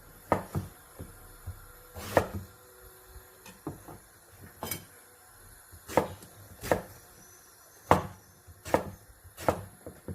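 A knife chops eggplant repeatedly on a cutting board, about a dozen sharp, irregularly spaced strikes with quiet gaps between them.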